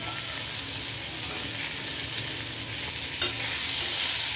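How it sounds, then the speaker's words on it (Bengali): Mango pieces with a little turmeric and salt frying lightly in a pan, giving a steady, close hiss of sizzling throughout with a brief stir or scrape near the end. "আমটাকে আমি হালকা করে ভেজে নেব।"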